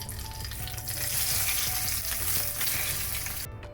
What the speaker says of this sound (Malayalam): ഇനി ഒരു തണ്ട് കറിവേപ്പില നന്നായിട്ട് മിക്സ് ചെയ്ത് നമുക്കിനി ഇത് നമ്മുടെ പൈനാപ്പിൾ പച്ചടിയിലോട്ട് ഒഴിച്ചു കൊടുക്കാം